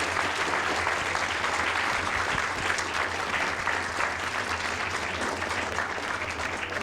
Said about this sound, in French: ce que je vous propose, c'est que, déjà, on va applaudir Didier, Jean-Claude et Marc.